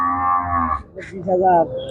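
A large beef cow at a cattle market lets out a loud, close moo that rises and wavers, followed by a shorter second low call.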